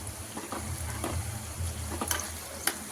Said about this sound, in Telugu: అదే గీలో మనం కట్ చేసి పెట్టుకున్న పచ్చిమిర్చి ఇంకా కరివేపాకు బాగా ఫ్రై చేసుకోవాలి.